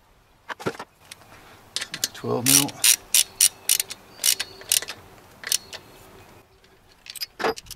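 A ratchet spanner clicks in quick bursts while bolts are tightened on the cylinder head of a Toyota 1KZ-TE diesel engine in a Prado 90 series, with short metallic rattles and pauses between strokes.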